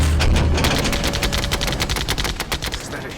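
A ship's Phalanx close-in weapon system in a sci-fi movie battle fires one continuous rapid stream of rounds, loud and close, a dense buzzing rattle throughout.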